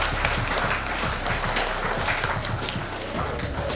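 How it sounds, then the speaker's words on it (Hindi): A crowd at a school chess championship prize ceremony claps steadily for nearly four seconds, a dense, even patter of applause with no voices. "तो बहुत ज़ोर से तालियां हो जाए इसके लिए।"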